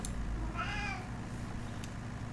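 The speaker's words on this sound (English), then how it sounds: "I've got a cat squeaking" A cat meows once, a short rising cry heard over a steady low engine-like hum from a farming game playing in the background.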